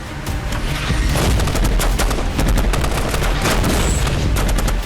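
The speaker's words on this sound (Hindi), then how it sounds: "वैसे ही वीरान इलाकों में अचानक बरसने लगती है गोलियां।" Heavy gunfire from a Hezbollah ambush on Israeli soldiers in a deserted area: loud, dense bursts of overlapping shots roar continuously without pause.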